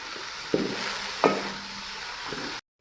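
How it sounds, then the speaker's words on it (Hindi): Sliced onions frying on a medium flame, a steady moderate sizzle with two sharper stirring knocks before it cuts off abruptly. "प्याज शामिल करने के बाद मैं इसको 4 से 5 मिनट मीडियम फ्लेम पे अच्छी तरह फ्राई करूंगी।"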